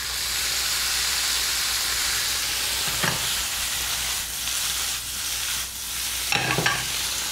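Onions sautéing in a pan make a steady, close sizzle, broken by two brief scraping stirs, with no one talking.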